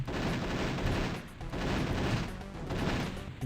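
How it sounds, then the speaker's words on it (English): Turrets firing in the Doom mod Action Doom, a dense, loud, continuous burst of gunfire with brief dips, close and without talk. "Oh, god damn it, these turrets."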